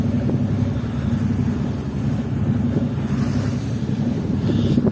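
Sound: waves on the water from a boat in Istanbul

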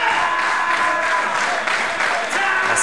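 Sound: wrestling crowd cheering and applauding

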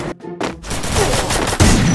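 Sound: gunshots in a video game

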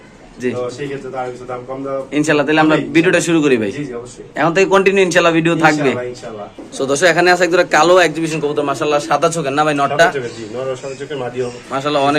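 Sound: pigeons cooing at a pigeon seller's

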